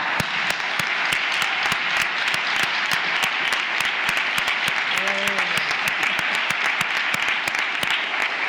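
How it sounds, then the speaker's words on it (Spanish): Sustained, dense applause from a large audience closing a pregón at the Pilar festivities, loud and steady throughout, with a brief voice or cheer rising briefly near the middle. "que el aplauso más grande de la noche sea para ella"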